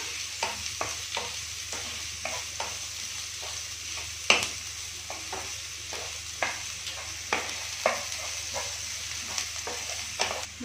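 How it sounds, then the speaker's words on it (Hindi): Onions frying in a pan, a steady moderate sizzle under regular scraping strokes of a spoon or spatula, with one sharper knock partway through. "प्याज को हम फ्राई कर लेंगे, ज़्यादा फ्राई नहीं करेंगे"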